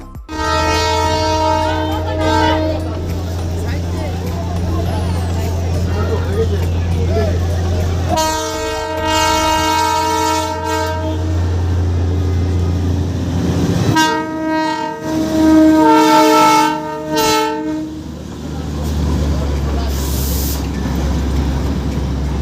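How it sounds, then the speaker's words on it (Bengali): The Darjeeling toy train sounds repeated loud, long horn blasts over a steady rumbling engine and rolling wheels, close by and dominating, with brief pauses between the horn bursts. "ফার্স্ট টয় ট্রেনটা তো তোমরা দেখলে"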